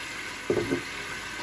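Masala spices fry in a pan for basmati rice pulao, a soft continuous sizzling hiss with a brief louder sputter partway through.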